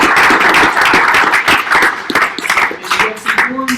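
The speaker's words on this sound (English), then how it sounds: "Your round of applause for Kyle." Applause at a startup pitch night, a few seconds of clapping from a modest crowd that wavers and thins toward the end, with some talking mixed in.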